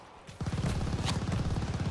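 Rapid automatic gunfire from the Call of Duty Vanguard zombies mode, a dense continuous burst of close, loud shots that starts after a short quiet moment and keeps going to the end.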